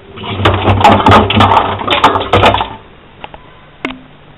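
A washing machine spins with a shoe tumbling inside, loud irregular thumps and rattling for about three seconds before it winds down to a few faint knocks and a short squeak.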